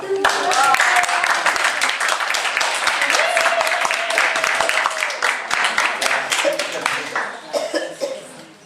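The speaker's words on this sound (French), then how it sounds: "les applaudissements" An audience at a handball club's internship award ceremony gives sustained applause, a thick, steady patter of many hands clapping nearby with voices and a few coughs mixed in, tapering near the end.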